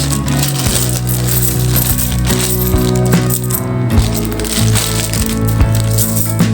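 50-peso coins handled by the handful during a coin hunt, a loud, close and continuous jingle of metal clinking and rattling against metal, with no talking.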